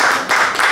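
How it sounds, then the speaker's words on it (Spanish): Audience applause for the winner of the 2020 National Prize for Plastic Arts, a brief, dense burst of clapping that swells and dips slightly. "les pido el más fuerte aplauso para el Premio Nacional de Artes Plásticas"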